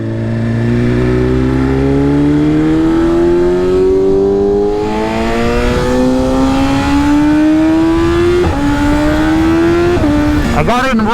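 A motorcycle engine revs hard and continuously while riding in Race Pro 1 mode, loud and close, its pitch climbing steadily through gears with brief drops at shifts and a sharp blip near the end.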